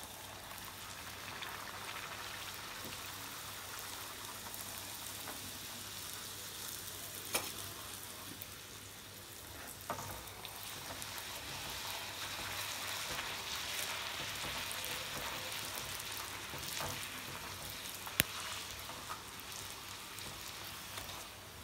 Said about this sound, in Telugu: ఓకే, ఫ్రై చేసుకుందాం.